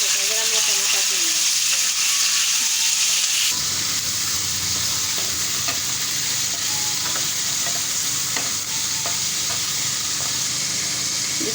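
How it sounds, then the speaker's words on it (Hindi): Coarse minced meat (keema) fries in a pan with a loud, continuous sizzle and hiss, interrupted by occasional stirring scrapes, with no voices. "अब डाल दिया मैंने एक कीमा।"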